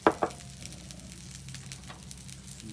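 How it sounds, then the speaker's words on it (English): Mushrooms sautéing in a pan, a soft steady sizzle running under a couple of louder clanks or stirs at the start. "then we'll saute mushroom"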